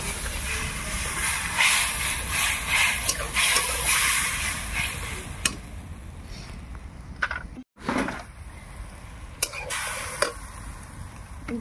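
Hot water poured into a curry simmering in a wok over a wood-fired stove sets off a loud, broad steaming hiss that slowly fades, with a few clicks and scrapes toward the end.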